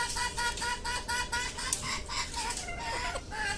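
Chickens cluck repeatedly in a steady, rhythmic run of short calls, close and fairly loud, with no talking heard.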